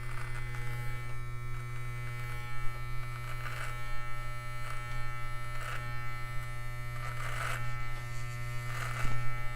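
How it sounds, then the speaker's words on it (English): Electric beard clippers hum steadily and close up while trimming a beard in long top-to-bottom strokes, a constant buzzing drone with faint bursts of cutting texture and no talking. "you're not hearing like a lot of noise come out of the clippers as if it's cutting a lot"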